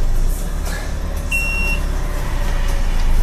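A model truck with trailer sounds its reversing beeper, a short high electronic tone over a steady low motor hum, with a fainter beep just before it.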